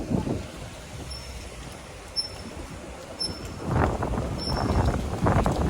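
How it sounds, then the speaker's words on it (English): Gusty wind on an outdoor walk through Condado, Puerto Rico, rumbling and buffeting against the microphone, building into stronger, louder gusts toward the end. "It's getting really windy."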